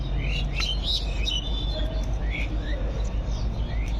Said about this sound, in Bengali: এই এই পায়রাগুলো দেখুন কি সুন্দর